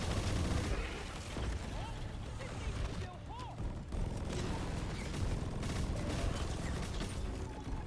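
Gunfire from a roguelike shooter video game, a dense, continuous stream of shots and explosions mixed with speech throughout.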